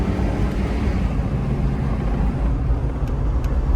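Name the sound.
2005 Chevy Trailblazer engine accelerating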